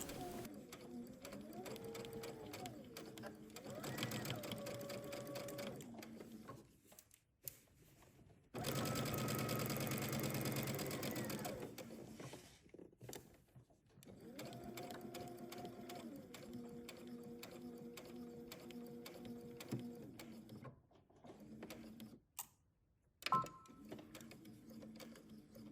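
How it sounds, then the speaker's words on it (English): A sewing machine stitches around a summer dress lining in long steady runs, its whirring hum rising and falling with speed, broken by short pauses and one louder, faster burst. "sew all the way around over to the other marking"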